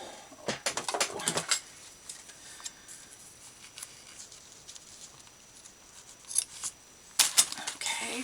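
Several quick snips of scissors cutting through paper for a junk journal, in two short clusters separated by a quiet pause, close by.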